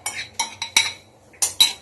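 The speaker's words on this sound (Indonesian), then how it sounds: "Jadi bahan-bahan yang tadi itu kita campur-campur, kita masukin ke panci." Tomato sauce ingredients being mixed in a cooking pot, with a series of sharp metallic clinks and scrapes of a utensil against the pot, arriving in irregular bursts up close.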